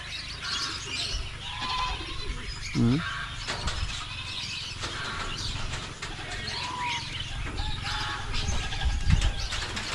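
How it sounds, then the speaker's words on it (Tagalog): Pigeons flutter and flap their wings in brief bursts amid soft cooing, with some outdoor background noise and faint voices. "Parang hindi mapagod yung mga kalapati natin."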